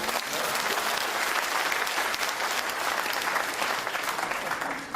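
Supporters at the SNP election campaign launch in Glasgow applaud in a loud, continuous burst of many hands clapping that stays full and even before easing off at the very end.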